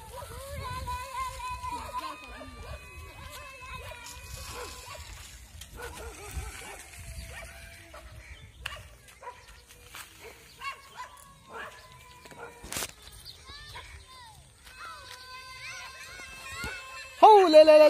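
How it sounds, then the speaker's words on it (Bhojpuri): A pet dog yipping and whimpering in short, high, scattered bursts at close range, while a person keeps talking and cooing to it. "ये रहा मेरा कुत्ता।"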